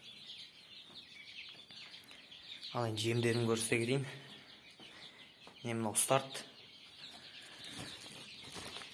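Newly hatched chicks in a brooder keep up a thin, continuous high peeping throughout, faint and steady beneath someone talking in the foreground.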